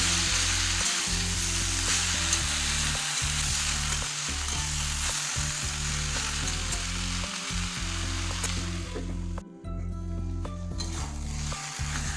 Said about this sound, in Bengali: এবারে এটা ভালো করে নেড়ে চেড়ে শুকিয়ে নেব